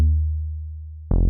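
A Diva synth playing the HS Flat Bass preset, heard dry before Waves R-Bass processing: a deep, sustained low bass note with steady harmonics, slowly fading, then a loud new note striking near the end, with no voices.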